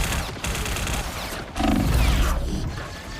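Rapid turret gunfire from a video game rattles in dense, continuous bursts with brief gaps, loud and close throughout.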